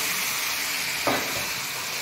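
Curry gravy of chickpeas and potatoes sizzles and fizzes in a hot pan as hot water is poured in, a steady frying hiss with a brief louder burst midway.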